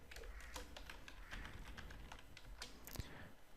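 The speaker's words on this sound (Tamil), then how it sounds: "கலர் என்று டைப் பண்ணிக்குவோம்." Rapid, steady clicking of a computer keyboard as someone types during a CSS dashboard design tutorial, the keystrokes close and continuous over a low background hum.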